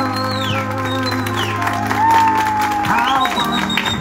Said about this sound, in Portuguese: Uma salva de palmas que nós homenageamos merecem.